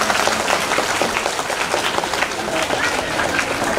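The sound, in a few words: schoolchildren clapping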